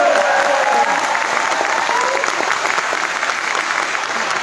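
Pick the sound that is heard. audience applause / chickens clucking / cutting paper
audience applause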